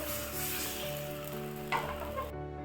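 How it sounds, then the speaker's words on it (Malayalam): Neer dosa batter poured onto a well-heated pan, a close, steady sizzle with faint scraping as the batter is swirled, ending abruptly in silence. "നല്ലപോലെ ചൂടായ പാനിലേക്ക് നമുക്ക് ഒരു തവി മാവ് ഒഴിച്ചുകൊടുത്ത് ഇതുപോലെ ചുറ്റിച്ചെടുക്കാം"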